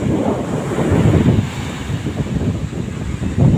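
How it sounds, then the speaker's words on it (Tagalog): Rough sea waves surge and break at Jumeirah beach in Dubai, UAE, a steady loud roar of surf mixed with gusting wind buffeting the microphone, with no voices. "maalon po sa Jumeirah, UAE"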